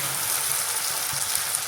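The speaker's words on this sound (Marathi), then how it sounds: "आता आपल्याला पुदिना फ्राय करून घ्यायचा आहे." Fresh mint leaves frying in hot oil in a kadhai while making chivda: a steady, dense sizzle and crackle, close and continuous with no pauses.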